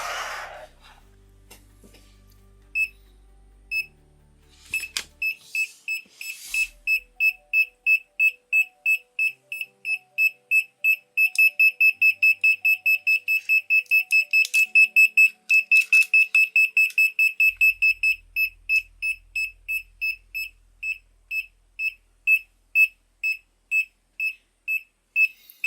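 A Minipa ET-2517A multimeter beeps during a non-contact voltage proximity test, giving a long run of sharp, evenly spaced high beeps that speed up into a rapid steady pulse before slowing again, heard up close with no talking.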